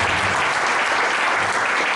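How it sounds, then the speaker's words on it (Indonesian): A church congregation claps together in a loud, dense, continuous round of applause filling the whole stretch without pause. "Tepuk tangan dulu buat Tuhan Yesus"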